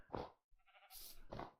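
Faint bleats from a sheep in the video game Minecraft, two short nasal cries separated by a brief pause, quiet and isolated.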